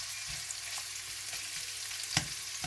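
Vegetables, including carrots, red onions and leeks, stir-frying in oil in a pan on an electric hob, giving a steady close sizzle with occasional stirring scrapes and one sharper clatter.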